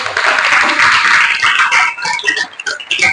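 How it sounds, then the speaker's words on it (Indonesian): Audience applause with dense clapping after a question in an Indonesian classroom or seminar talk, loud and close, fading unevenly toward the end with a brief dip before a final burst. "Terima kasih, tepuk tangan."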